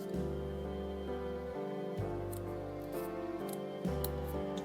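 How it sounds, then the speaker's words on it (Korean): Scissors snip through folded paper for a paper-craft model, giving a few soft, close cuts under steady background music. "조금 이쁘게 잘라야 되는데 이쁘게 안 잘라져서 이렇게 된 것 같아요"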